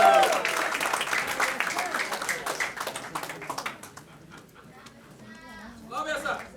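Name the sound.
thunderous audience applause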